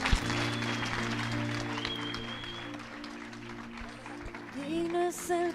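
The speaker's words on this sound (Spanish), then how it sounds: "Dale un aplauso fuerte al Señor." A church congregation claps loudly in praise during a worship service. The dense clapping runs throughout over sustained keyboard chords, and a short melodic phrase rises near the end.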